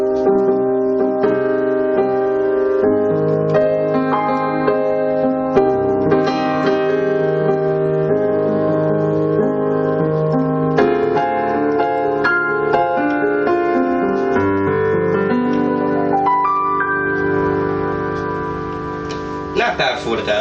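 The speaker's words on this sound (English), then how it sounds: "Here's a nice little dark piano. It's called a European pianoforte" A Roland BK-5 keyboard's European pianoforte sound plays a slow, moody sequence of sustained chords and single notes, close and full, ringing out without any voices.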